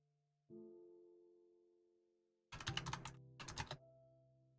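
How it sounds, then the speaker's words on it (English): Rapid clacking from a mechanical computer keyboard arrives in two short bursts over a steady tonal drone, close and fairly loud against the quiet background. "You can hear his goddamn mechanical keyboard from a mile away."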